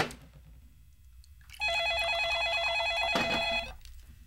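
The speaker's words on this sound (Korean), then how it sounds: "야, 서민정, 내가 전화를 얼마나 많이 했었는데." A telephone rings with a loud, rapid electronic trill that starts abruptly after quiet background noise and lasts about two seconds before cutting off.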